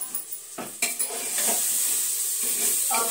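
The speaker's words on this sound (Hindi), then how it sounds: "यहाँ फ्रेंड हमारा दाल अच्छे से भून रहा है" Dal lentils roast in a pan while being stirred, with a spoon scraping and clinking against the metal over a steady sizzling hiss that grows fuller and louder.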